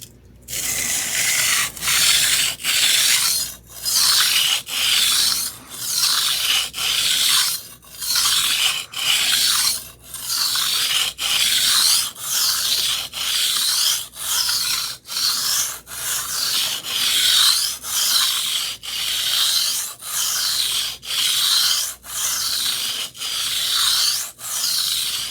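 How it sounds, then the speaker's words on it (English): A kitchen knife blade is sharpened with steady back-and-forth rasping strokes, about one per second, close and even, repeating throughout with no voices. "just sharpen this side so the burr's on the bottom"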